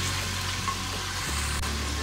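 Chicken and chopped green chillies fry steadily in a pan, a continuous close sizzle with a low hum shifting partway through, no voices.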